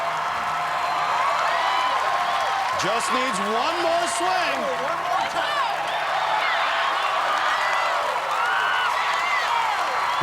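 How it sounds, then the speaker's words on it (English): Arena crowd at the American Ninja Warrior National Finals roars and cheers steadily throughout as a rookie competitor swings through an obstacle, with a commentator talking loudly over the continuous crowd noise. "This crowd is going nuts for McCartney."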